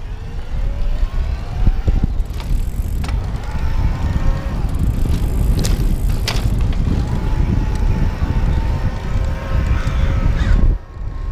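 A Haibike SDURO Trekking 4.0 e-bike with a Yamaha motor rides uphill in a low gear outdoors, its faint rising electric whine under heavy wind rumble, with occasional crow caws in the distance.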